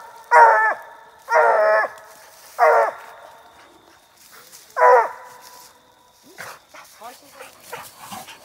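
Hunting dogs on a public-land raccoon hunt in Texas let out four loud, drawn-out bawling barks at uneven intervals, close by, followed by softer rustling and quiet movement.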